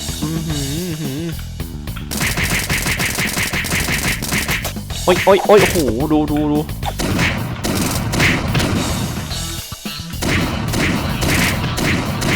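Rapid bursts of gunfire in the video game Hobo 3 crackle and boom throughout, while a man exclaims loudly over the shooting.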